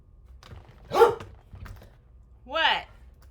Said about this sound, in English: Here he goes again, barking at nothing.